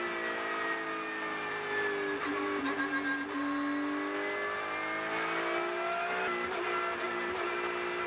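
A Porsche Cup race car's engine roars loud and close from onboard during a qualifying run at the Red Bull Ring, its pitch climbing steadily through the gears with brief dips at shifts and a faint tyre squeal.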